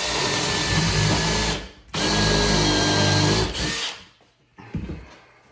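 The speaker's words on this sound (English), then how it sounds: "Use a bit like this, countersink. Go almost to the back." Power drill fitted with a countersink bit boring into a woodgrain floating shelf, two long loud whirring runs separated by a brief stop, then a shorter burst that winds down, with a few faint knocks at the end.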